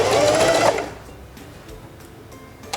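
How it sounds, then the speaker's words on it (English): A Heavy Duty 4411 sewing machine sews a short burst of bar tack stitches for a buttonhole. There is a loud, fast mechanical whir for under a second, then quiet with faint clicks and a final soft tick. "Select number 3 on the stitch selector dial and sew a few stitches for your upper bar tack."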